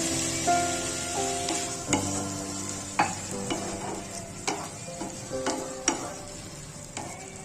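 Pumpkin and potato curry stirred in a pan, with a gentle sizzle underneath and a series of distinct utensil knocks and scrapes against the metal, some leaving a brief ringing tone.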